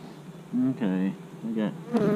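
Honey bees buzz close by during a beehive inspection, with short, wavering tonal bursts that rise and fall as individual bees pass near.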